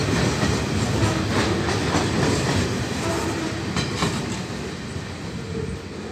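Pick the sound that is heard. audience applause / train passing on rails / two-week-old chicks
train passing on rails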